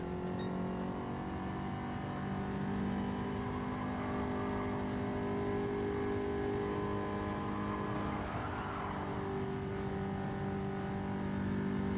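A race car engine in Gran Turismo 7 drones steadily at a fairly low level, a sustained, even tone with a brief rising sweep late on, and no voices.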